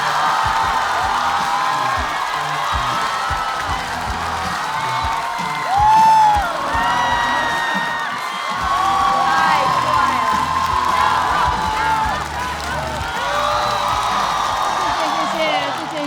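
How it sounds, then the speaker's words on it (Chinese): A studio audience at a televised stand-up comedy competition cheers, whoops and applauds as a comedian is welcomed on stage. A sustained, loud crowd roar with scattered shouts across the whole stretch. "让我们掌声有请"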